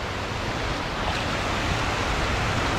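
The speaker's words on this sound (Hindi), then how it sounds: "लहर आ रहा है पानी का" Steady broadband wash of surf rolling onto a long, crowded beach in Bangladesh, a continuous hiss with no distinct breaks, fairly near and even in loudness.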